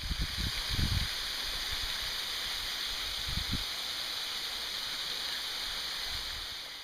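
Maderas waterfall on Ometepe Island, a 50-metre drop, pours in a steady broadband rush that fills the whole clip, with a few low thumps or gusts near the start.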